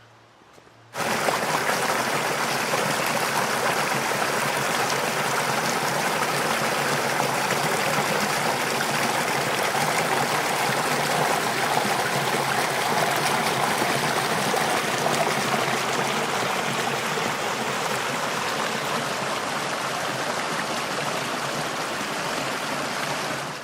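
A flowing stream of water rushes in a steady, dense, continuous wash that stays close and loud throughout, with no voices over it.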